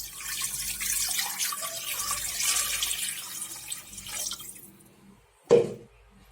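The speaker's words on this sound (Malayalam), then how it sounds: "ഇനി നമുക്ക് ഒരു 1/4 കപ്പ് വെള്ളം അതിനകത്തേക്ക് ഒഴിച്ചു കൊടുക്കാം" Water pours and splashes into a pressure cooker while making chicken soup, a steady running stream for several seconds that thins out, followed by a single sharp clunk near the end.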